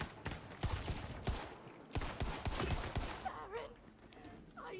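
Pistol gunfire in the video game Wonderlands, a quick run of sharp shots in bursts amid game effects, fading into quieter action near the end.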